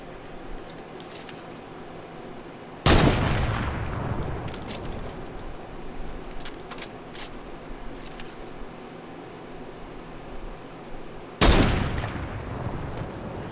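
Gunfire in Fortnite Battle Royale: two loud, sharp blasts several seconds apart, each trailing off, over quieter clicks and game ambience, with no talking.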